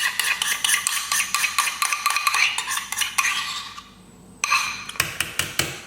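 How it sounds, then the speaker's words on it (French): A whisk beats a quiche filling with crème fraîche in a bowl, making quick rhythmic metallic clicks against the sides. It pauses briefly, then the whisking resumes. "On fouette un peu."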